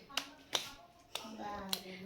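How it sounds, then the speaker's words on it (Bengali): A child claps during an evening prayer, producing four sharp, evenly spaced claps close to the microphone. A chanting or singing voice carries on underneath between the claps. "ও হাততালি দিচ্ছে"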